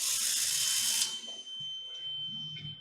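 A Graviner Mark 6 oil mist detector alarm sounds during testing with smoke spray, a loud steady high-pitched electronic tone that cuts off after about a second, leaving a faint lingering whine.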